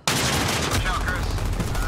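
Rapid gunfire from a Modern Warfare multiplayer match on PS4 runs loud and dense for nearly two seconds, with bursts overlapping and a faint voice underneath.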